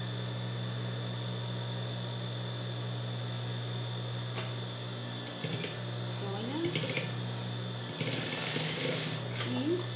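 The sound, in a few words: sewing machine stitching ruffles on a baby romper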